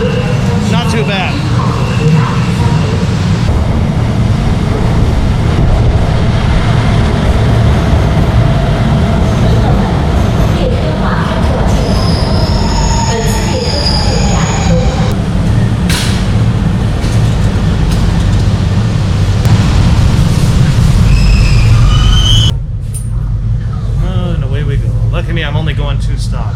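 A Shanghai metro train rumbles steadily through a short two-stop ride from West Nanjing Road, with loud continuous wheel and motor noise, some brief tonal whines, and a sudden drop near the end as it slows.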